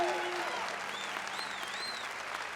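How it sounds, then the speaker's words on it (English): A live audience at a community awards event applauds in a steady, moderately loud wash of clapping, with a few high whistle-like cheers rising above it. "Okay, now you clap. Come on, everybody."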